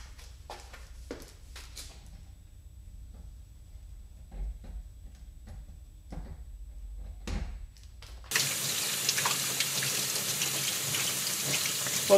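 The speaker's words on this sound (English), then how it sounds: "At the sink, we want to wash the screen thoroughly." Sink tap washing out a silkscreen after exposure: a few quiet knocks and handling sounds, then water abruptly gushes on at full flow and runs steadily in a loud rush to the end.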